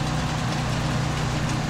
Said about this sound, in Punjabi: ਚੱਲ ਗਈ ਖੱਤੇ 'ਚ ਕੰਬਾਈਨ ਬਾਈ